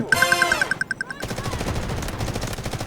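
M4A1 rifle in the shooter game Delta Force fires a rapid burst of about a dozen sharp rounds, then overlapping gunfire and game action continue densely to the end, loud and close.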